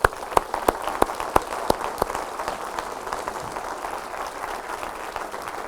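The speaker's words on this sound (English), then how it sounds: "I also think they deserve an applause." Audience applause at an MBA graduation ceremony, opening with a few sharp distinct claps and settling into a dense, steady wash of clapping from a large crowd.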